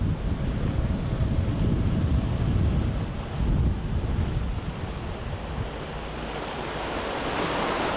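Sea waves break and throw spray along the Maltese coast, a loud, steady wash of surf with wind buffeting the microphone, continuous and close.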